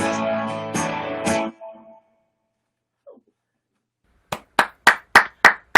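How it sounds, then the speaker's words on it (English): A single person claps hands at home during a live stream, six sharp close claps in a steady rhythm following a stretch of singing and then a pause of near silence. "I don't know if anybody can hear me clapping, but I'm clapping."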